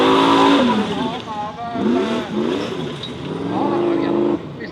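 A Formula Offroad car on a hill-climb track in Telemark, Norway, revs hard with rising and falling engine whines under steady commentary from someone speaking.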